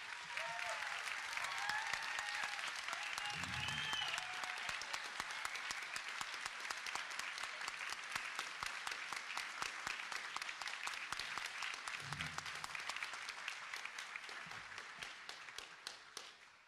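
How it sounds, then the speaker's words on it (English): A high school band concert audience in Bartlesville gives sustained applause for All-State band students, a steady dense clatter of many hands lasting throughout and fading slightly at the end, heard from within the hall. "Please give all these All-Staters a round of applause."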